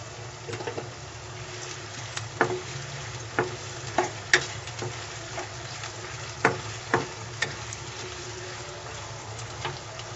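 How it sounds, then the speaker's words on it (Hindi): Onions fry in hot oil in a pan, giving a steady sizzle, while a spoon stirs them and scrapes and taps against the pan in scattered clinks. The sound is close, with no speech. "प्याज शामिल करेंगे और इसे 5 से 6 मिनट तक हम इसे पकने देंगे और साथ साथ चम्मच भी चलाते रहेंगे"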